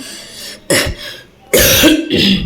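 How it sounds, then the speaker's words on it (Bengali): Two harsh, close coughing bursts break the quiet, the second longer and rougher, with a faint room hum between them. "কাশি বন্ধ হবে না"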